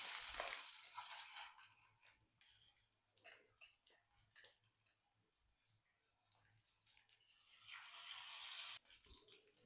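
Chicken pieces in masala frying in hot oil, bursts of sizzling crackle that swell at the start and again near the end, quieter fizzing and light clatter between.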